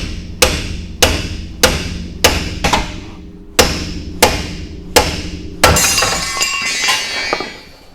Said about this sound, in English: All right, bigger hammer.